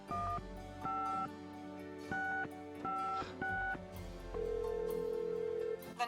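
Touch-tone keypad beeps from the Gabriel Knight: Sins of the Fathers adventure game, several separate dual-tone presses in an uneven rhythm followed by one longer steady tone, clean and close with no talking.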